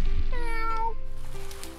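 A single drawn-out cat meow in the video game Rain On Your Parade, clear and close, with a rising then falling tone over a low rumbling background.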